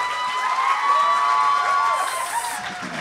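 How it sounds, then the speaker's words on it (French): A live audience at a Montreal comedy show bursts into applause mixed with cheers and whoops. The crowd noise holds strong and steady, then eases slightly near the end. "un applaudissement"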